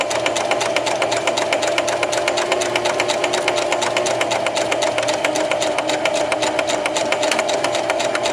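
A sewing machine stitches backward along the first side of a buttonhole, its rapid, even needle chatter running continuously and close up with a low motor hum underneath.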